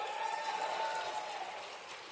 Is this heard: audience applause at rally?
yes